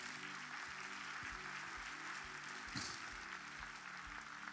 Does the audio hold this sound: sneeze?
no